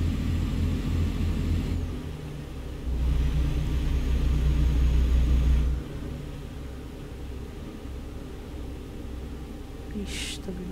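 A car approaching on the road in American Truck Simulator, heard as a steady low rumble of engine and road noise that swells and fades while people talk over it.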